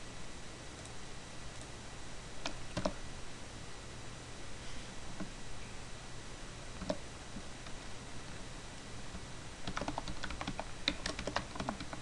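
Steady, continuous typing on a computer keyboard while setting up tabbed columns, with rapid clicking keystrokes and occasional louder key taps, close and alone with no talking.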